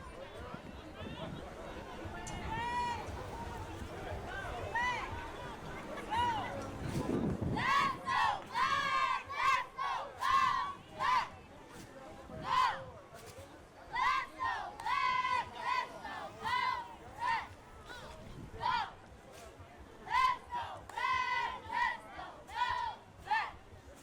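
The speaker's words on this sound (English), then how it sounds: "I think they're about to give us the cheer." Youth cheerleading squad, the Tri-County Cobras, performing a chanted cheer at a Dr. Martin Luther King Jr. commemorative celebration: rhythmic shouted phrases from a group of young voices in regular bursts, with crowd murmur and a brief scuffle before it starts.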